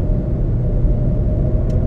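Traffic on the BR-494 highway, a two-lane road, heard as a steady low rumble of vehicle engines and tyres, loud and continuous, with no voices.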